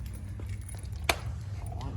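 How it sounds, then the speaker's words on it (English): A set of keys held up and jangled gives one short, bright metallic clink in the middle, over a steady low hum. "Yep, keys. Just hold them here."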